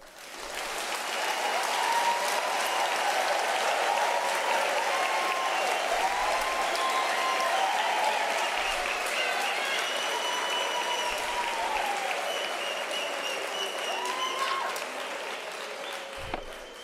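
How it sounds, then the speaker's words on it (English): A large audience at a university graduation ceremony gives sustained, dense applause that holds steady for over fifteen seconds, with faint voices mixed into the clapping. "applause."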